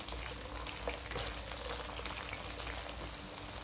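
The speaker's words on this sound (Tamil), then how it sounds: "நம்ம இந்த கோவக்காவை நல்லா வறுத்துக்கலாம்." Steady, close sizzling and crackling of ivy gourd frying in a pan, a continuous hiss with small pops throughout.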